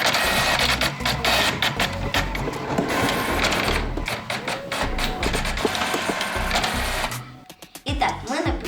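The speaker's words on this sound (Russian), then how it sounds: "Для начала распечатаем схему машины на принтере." A home printer printing a cardboard Tesla Cybertruck template, a continuous busy mechanical whirring and rattling with rhythmic feed clicks, close and loud, tapering off near the end.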